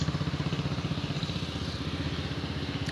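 A Royal Enfield Bullet motorcycle thumps past close by, its loud, steady single-cylinder beat pulsing evenly with a rattly mechanical edge, no voices over it.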